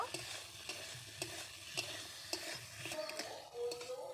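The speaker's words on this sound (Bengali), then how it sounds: "স্বাদ মতো লবণ পরিমাণ মতো হলুদ গুঁড়ো দিয়ে আমি ভালো করে নেড়ে চেড়ে নেব" Cabbage curry with salt and turmeric stirred in a pan over a quiet sizzle, with rhythmic scraping strokes of a spatula roughly every half second and a brief clink of metal.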